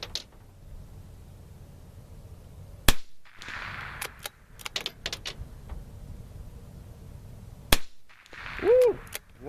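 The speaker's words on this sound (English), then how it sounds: "We'll shoot at the top one first, the kind of narrow looking one." Savage Mk II FV-SR rifle fired at targets 100 yards out on an outdoor range: two sharp, isolated cracks several seconds apart, with quiet handling noises and brief rustles between.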